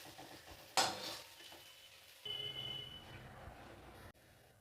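Fried eggplant is lifted out of a pan into a dish, with a sharp metallic clink followed by soft scraping and a faint sizzle, close and fairly quiet.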